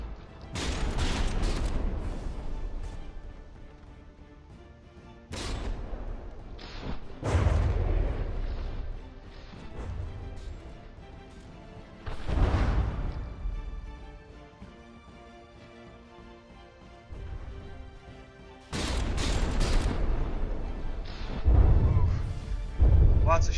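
Naval shells fire in the From the Depths game as a battleship duel between the Phoenix and the Goliath plays out, with heavy booming volleys and rumbling bursts recurring every few seconds at moderate loudness.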